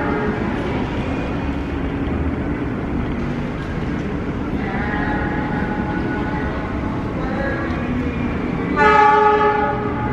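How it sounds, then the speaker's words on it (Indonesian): A train passes straight through an Indonesian railway station at Manggarai, its loud rumble rolling throughout while the horn sounds in several sustained blasts, the strongest one near the end. "Jalur 1 dari arah selatan, hati-hati 1 selatan, kereta api melintas langsung."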